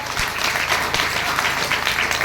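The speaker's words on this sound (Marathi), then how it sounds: "माईबाप जोरात टाळ्या वाजवा." An audience claps loudly at a religious kirtan gathering in a village, with dense continuous applause filling the space throughout.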